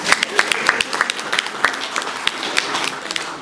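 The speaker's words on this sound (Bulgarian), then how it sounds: "Тук аплодисменти" An audience gives a round of scattered, uneven applause at a Bulgarian stage performance, with individual claps standing out sharply against a busy crowd wash.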